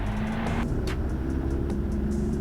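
A small private-pilot airplane engine runs up to full power for a takeoff roll on the runway, a loud steady drone with a strong low hum and rising roar held continuously throughout.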